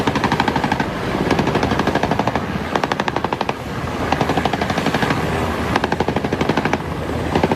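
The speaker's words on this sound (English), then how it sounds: "Sound like perhaps there was gunfire there." Rapid bursts of automatic gunfire crackle in repeated rattling volleys, loud and sustained, with short gaps between strings of shots.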